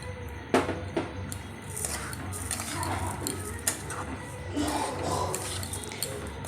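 A spoon scrapes and clinks in a pan as grated coconut is stirred with milk, with cardamom added; light irregular taps and scrapes over a soft background.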